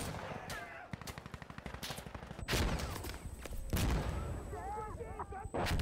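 Heavy video-game gunfire pours out in a rapid automatic stream, followed by dense booming explosions from airstrikes, loud and continuous, while excited voices talk over the action.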